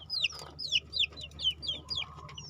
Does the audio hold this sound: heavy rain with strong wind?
no